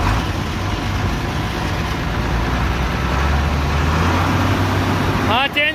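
A Hino diesel truck engine idles and runs with a deep, steady rumble up close, a constant low drone throughout while gears are engaged, with a brief mechanical whine near the end.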